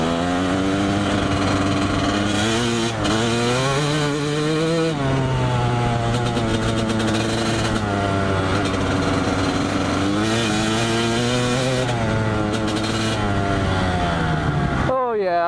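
A motorcycle engine runs loud and continuous, rising and falling through several rev swells as it pulls, with wind noise throughout.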